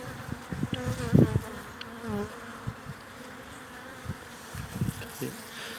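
Honey bees buzz loudly and close at an open hive, in a dense, wavering drone with a few louder swells and some soft handling noises.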